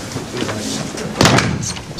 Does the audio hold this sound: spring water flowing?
no